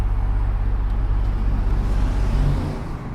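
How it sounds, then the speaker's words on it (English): A car engine strains while being driven with the handbrake left on, a loud, steady low hum with a pulsing drone. The engine eases off near the end, and no one talks over it. "So he left the handbrake on there. Car was struggling a bit as well."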